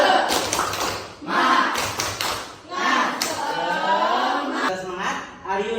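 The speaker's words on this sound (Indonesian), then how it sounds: "Ustadz akan kasih tepuk semangat nih ya" A class performs a rhythmic spirit-clapping chant, tepuk semangat, led by a teacher: sharp group claps in short patterned bursts, alternating with a loud voice calling out between the clap sequences.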